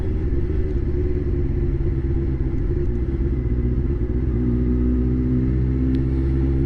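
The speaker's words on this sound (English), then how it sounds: "this bike doesn't want to go, doesn't like low revs," Motorcycle engine labouring at low revs while riding, a deep continuous rumbling chug with steady low throb, close and loud, with wind noise over it and no talk.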